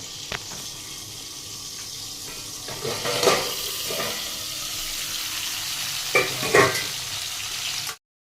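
Potatoes sizzle in a frying pan for an egg curry, a steady crackle broken by louder scraping bursts of stirring, before the sound cuts off abruptly.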